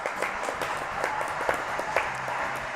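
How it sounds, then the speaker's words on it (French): Studio audience of a French TV show applauding, a steady dense wash of clapping with a few louder individual claps standing out, continuous throughout and fairly close. "Applaudissements s'il vous plaît"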